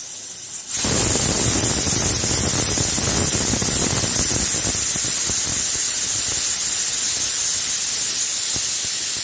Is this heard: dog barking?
no